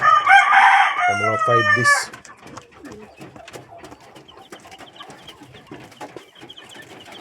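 Young part Rhode Island chicks about five days old, cheeping and peeping in short bursts, loudest at first and then fainter and scattered, with someone talking briefly.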